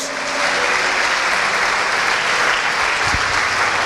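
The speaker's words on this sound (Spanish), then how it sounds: "¿por qué no le da un aplauso fuerte de alabanza y de adoración a Dios?" Loud, sustained applause of praise from a church congregation during worship, a dense continuous roar of clapping hands filling the whole stretch at an even level.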